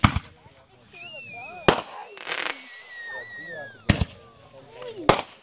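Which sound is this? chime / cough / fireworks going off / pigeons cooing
fireworks going off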